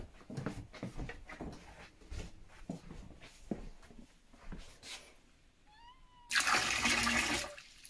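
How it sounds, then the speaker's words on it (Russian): Citric acid solution is poured into a toilet bowl, a loud rushing splash of liquid lasting about a second and a half near the end, preceded by quieter handling noises and a brief meow. "Выливаете это дело в унитаз."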